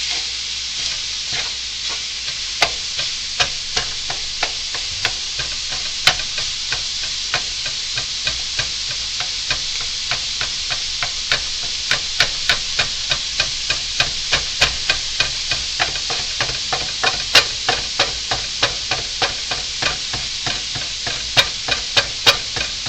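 Onions and garlic frying in a pan while making lasagna, a constant loud sizzle with a spatula scraping and clacking against the pan in frequent, irregular strokes throughout.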